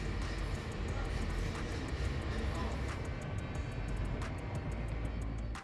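Steady rumbling of a commuter train in motion near downtown Miami, heard from inside, with a continuous roar and faint rhythmic clicks of wheels over rail joints.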